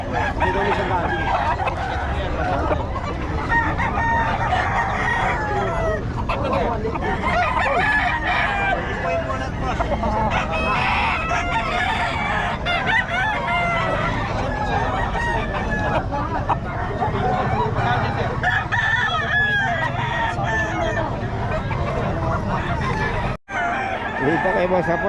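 Roosters and chickens brought from Nueva Ecija to a poultry seller crow repeatedly and cluck constantly around the listener, with people talking amid the birds.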